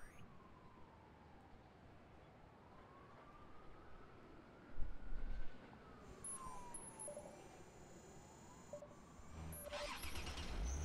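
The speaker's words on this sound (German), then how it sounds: "Ich fahre jetzt mal links lang" A car speeding along in Lego City Undercover, its engine whine sliding up and down in long sweeping arcs with a siren-like wail, bumps and crashes mixed in, and no talking.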